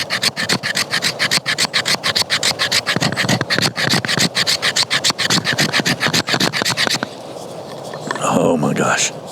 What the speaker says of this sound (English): Let's just see if we can scrape a little fat wood here with this thing.